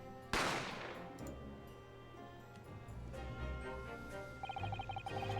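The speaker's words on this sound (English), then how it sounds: "I didn't have time to think about where the sound of the gunshot had come from" A single gunshot sound effect from the video game Great Ace Attorney cracks out sharply near the start and rings off, followed by sustained game music and tones.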